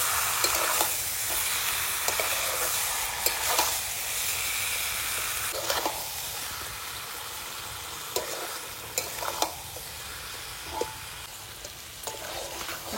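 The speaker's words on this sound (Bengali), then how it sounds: "এবার ভালো করে মাংসটা কষিয়ে নেব।" Meat being stir-fried in a pan for a village meal sizzles steadily with a constant hiss, broken by frequent scraping clicks of stirring.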